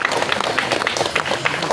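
Applause for the PKK chairwoman at a village welcome gathering in Adobala, a short burst of dense clapping from a crowd, close and fairly loud throughout.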